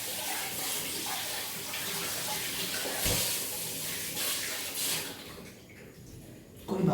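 Tap water runs steadily as something is rinsed at a kitchen sink while ramen is being cooked, a close, continuous splashing stream with brief surges before tapering near the end.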